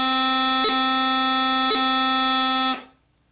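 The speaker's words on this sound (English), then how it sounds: "Now separate B's with high G grace notes." Bagpipe chanter sounding a sustained B split into three notes by two brief high G grace-note flicks, reedy and loud, with no voices.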